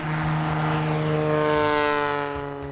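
Light propeller airplane on a short-field takeoff with 20 degrees of flaps, its engine droning loud and steady with a strong propeller hum that swells slightly and then eases, alone with no voices.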